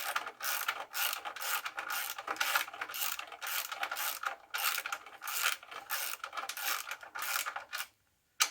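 A spanner works a washer and nut on the independent rear suspension of a 1994 Jaguar XJS V12, giving a rapid run of close metallic ratcheting clicks that continues steadily, pauses briefly, and ends in near silence.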